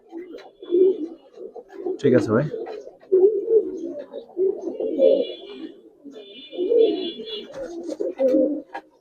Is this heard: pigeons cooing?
yes